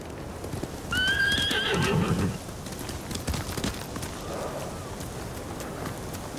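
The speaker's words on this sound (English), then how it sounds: "They're samurai mounts, trained to return to their masters." A samurai horse neighs loudly over clopping hoofbeats in the video game Ghost of Tsushima, then the hooves continue more quietly with a fainter whinny later.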